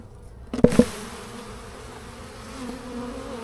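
Honeybees buzz around an open beehive during an early-spring inspection, a steady low hum running throughout with a brief louder burst of handling noise near the start.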